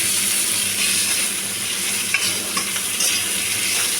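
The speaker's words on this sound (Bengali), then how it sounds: "এবার ওই মাছ ভাজা তেলের মধ্যে আলু যেগুলো ধুয়ে কেটে রেখেছিলাম সেগুলোকে ছেড়ে দিচ্ছি।" Washed, cut potatoes fry in the oil just used for frying rohu fish, giving a dense, even sizzle. A couple of faint stirring clinks sit over the hiss, with no one talking.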